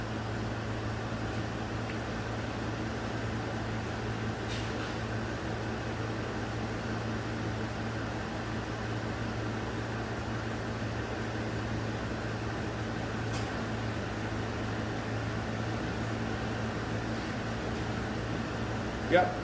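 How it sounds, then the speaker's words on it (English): A 2009 Chevrolet Colorado or GMC Canyon pickup's AC compressor runs as a steady, even mechanical hum with a low drone, unbroken for the whole stretch apart from a brief knock near the end. "So I'll just turn the AC on and make sure it works."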